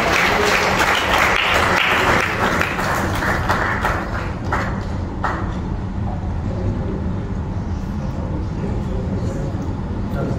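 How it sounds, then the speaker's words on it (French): A crowd at an evening event applauds warmly to welcome a woman, a dense, loud, sustained wash of clapping over roughly ten seconds with a steady crowd murmur underneath. "J'aimerais que nous puissions l'applaudir chaleureusement pour l'encourager."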